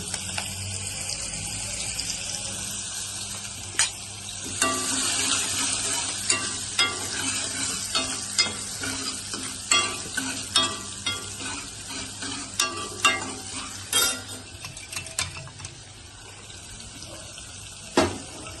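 Garlic fries in hot oil with asafoetida and turmeric, making a loud bright sizzle that settles as a spoon stirs with a run of clinks and scrapes toward the end, without speech.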